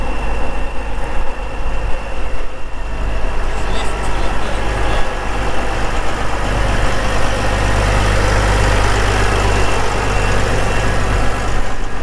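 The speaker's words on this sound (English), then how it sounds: "I love this tractor." A large heavy tractor weighing about 22 tonnes runs steadily in a field during spring cultivation, a loud continuous low diesel rumble close by with faint talk in places.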